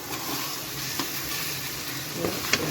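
Powdery mixture lightly stirred as it fries in a pan, giving a steady close sizzle with soft scraping strokes and a few small clicks of the spoon.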